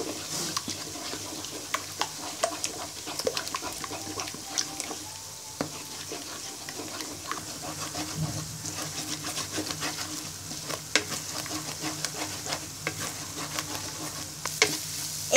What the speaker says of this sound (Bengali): এবার ডিমগুলোকে ভালো করে ফেটে নিব।